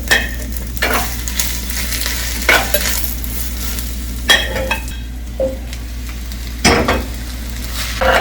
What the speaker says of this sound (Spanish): ahora le voy a empezar a agregar la cebolla para que también empiece a freírse